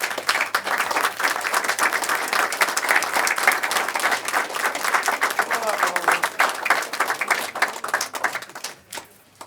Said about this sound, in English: join me in a round of applause for Miss Melanie Todd